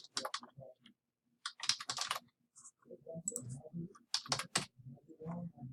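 Fingers type on a computer keyboard in bursts of close, crisp key clicks, with short pauses between flurries and no voices.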